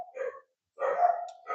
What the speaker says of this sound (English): if you hear the dogs barking in the background